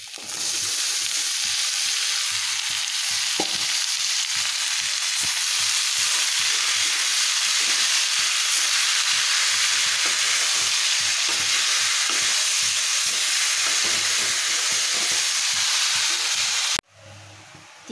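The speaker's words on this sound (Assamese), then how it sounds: "এতিয়া পিঁয়াজ আদা নহৰু শুকান জলকীয়া ভাজি আছোঁ" Onion, ginger, garlic and dried chili fry in a pan of oil, giving a loud, steady sizzle that runs continuously and close, with soft stirring scrapes, then cuts off abruptly near the end.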